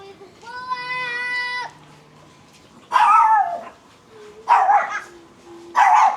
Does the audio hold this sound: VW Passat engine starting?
no